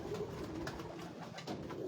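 Pigeons on a Lahore rooftop give a brief stretch of soft, continuous low cooing, close by but quiet, with no talking.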